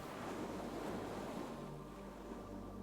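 Ocean surf heard from beyond a window: a steady, broad wash of breaking waves with some wind, constant and moderately distant, with no voices over it.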